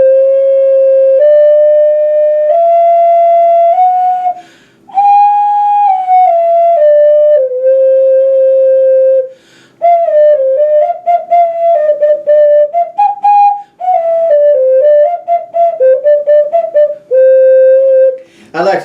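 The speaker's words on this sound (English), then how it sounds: "I brought with me an ocarina today." Ocarina, also called a sweet potato, plays a clear, breathy melody of sustained notes and quicker runs with short pauses between phrases, close and alone.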